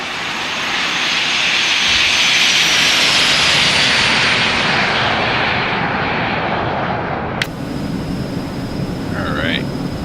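Eclipse 550 business jet making a flyby in the X-Plane 11 flight simulator, a loud broad jet roar swelling and holding, then dropping back to a steadier engine hum.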